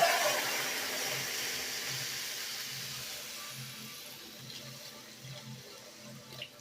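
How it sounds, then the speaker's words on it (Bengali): About a bowl of water is poured into a pan of pumpkin fried with poppy seed and mustard paste, for a Bengali prawn dish. The soft, steady splashing hiss fades gradually. "এবার এখানে আমি 1 বাটির মতন জল দিয়ে দিচ্ছি।"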